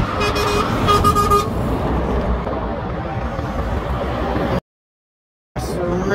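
A Scania truck rolls past on the M20 motorway with a loud, broadband engine and tyre roar. A brief horn toot sounds near the start, and traffic noise continues before a sudden short dropout.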